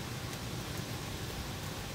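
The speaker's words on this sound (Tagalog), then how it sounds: "Ulan na pala yun." Heavy rain falls outside in strong wind, a steady dense hiss of broadband noise with no break and no voices.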